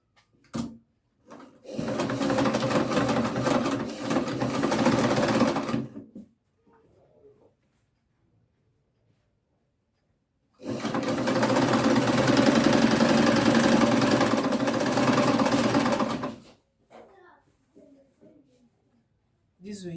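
A sewing machine stitches fabric while sewing a simple pair of shorts, running in two long, steady, loud bursts of about four and six seconds, with a quiet pause between them.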